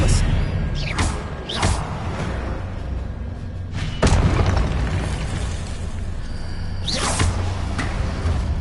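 Expelliarmus spell effect in Hogwarts Legacy: repeated whooshing, bursting blasts rise and fall over a steady rumbling game background, loud and close, a few bursts several seconds apart.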